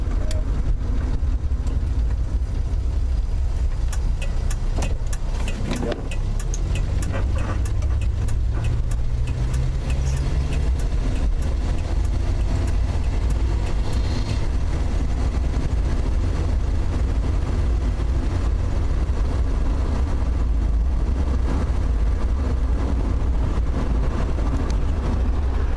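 A Plymouth Valiant car driving with gears shifted manually, its engine droning loud and steady from close inside the cabin, with a rising whine partway through as it picks up speed.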